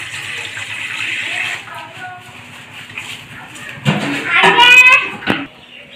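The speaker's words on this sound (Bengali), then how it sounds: "এবারে আমি জল দিয়ে দিচ্ছি গামলার মধ্যে।" Water gushes into a basin during potato chip preparation, a loud splashing pour in the last couple of seconds after a quieter stretch of kitchen background.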